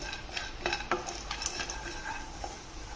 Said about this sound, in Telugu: ఇందులో జీలకర్రను మనం ఫ్రై చేసుకోవాలి మొత్తం బ్రౌన్ కలర్ వచ్చే వరకు